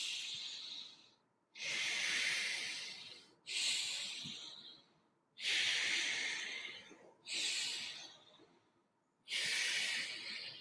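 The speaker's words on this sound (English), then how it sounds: "Now expand your breathing as much as you can with your stomach or your belly or your abs" Deep, forceful breaths during an expanding breathing exercise: six loud, close rushes of air, each starting abruptly and tapering off, separated by short silent gaps.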